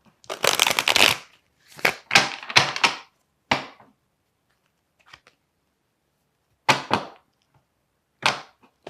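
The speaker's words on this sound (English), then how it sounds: "But I want to pull another card here." Tarot cards are shuffled by hand in several quick riffling bursts separated by silent pauses, close and crisp with no talking.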